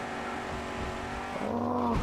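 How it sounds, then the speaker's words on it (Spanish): A car in the Mad Max video game kicks in its turbo boost, and the engine note rises into a loud, steady whine that climbs over about two seconds with no talking. "Ahí hemos puesto el turbo"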